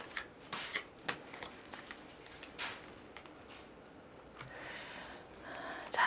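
Tarot cards are shuffled by hand in soft, close riffling bursts with quiet pauses between, faint and without talk.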